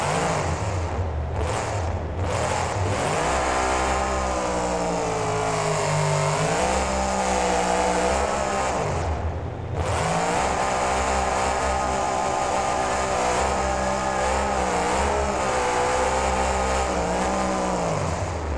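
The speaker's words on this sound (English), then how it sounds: "Getting some sidewall donuts, trying to get himself back up on his tires, which he will." A monster truck's engine in BeamNG revs continuously while the truck spins sidewall donuts in a stadium, a loud, steady roar that rises and falls in pitch, with brief throttle lifts near the start and midway.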